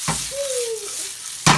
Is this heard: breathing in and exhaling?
no